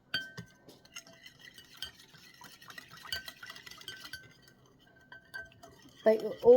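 Barbecue sausage ingredients are mixed in a bowl with scattered light clinks and taps of a utensil against the dish, soft and close, then a louder scrape at the end.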